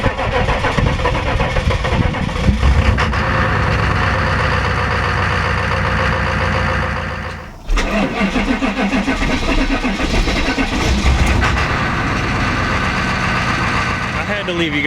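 A loud 6.5 diesel truck engine runs steadily at close range, dips briefly, then rumbles on with a rough, heavy idle.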